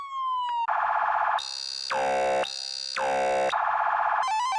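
An Arcade Blaster siren mode in the video game Ambulance Life, a loud, buzzy electronic siren alternating between harsh high blasts and falling wails in a rapid, repeating pattern, with no voices.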